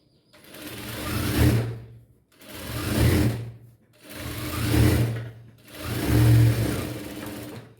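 A sewing machine stitches the neckline of a plain blouse in four separate bursts, each a few seconds of close, steady whirring with short pauses between.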